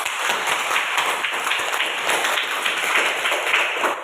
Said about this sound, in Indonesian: Kita beri tepuk tangan dulu untuk kelompok 2